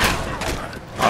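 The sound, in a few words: gunshot in video game Fallout 4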